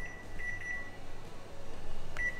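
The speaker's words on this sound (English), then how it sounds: "So we'll set the timer." Beeps from a kitchen timer set for a pot boiling on the stove, a few short electronic tones sounding over steady low background hum and cooking noise.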